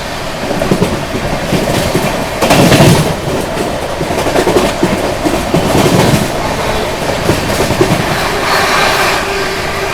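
The Bangalore Rajdhani express runs through Datia railway station at night without stopping, heard from aboard as a loud, continuous rumble with rhythmic clickety-clack of the wheels.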